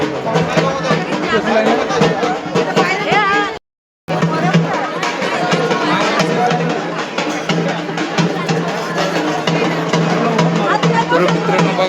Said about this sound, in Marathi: तर मित्रांनो बघा गर्दी किती आहे